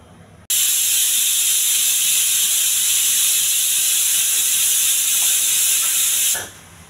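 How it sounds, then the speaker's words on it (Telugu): A pressure cooker of peas lets out one long, loud, steady steam whistle that begins abruptly and holds for about six seconds before cutting off, with no talk. "కుక్కర్ మూత పెట్టుకొని 4-5 విజిల్స్ రానివ్వాలి."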